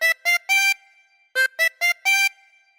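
A harmonica plays a short phrase of "When the Saints Go Marching In" in separate reedy notes, three then four, with a brief pause between groups, clear and close.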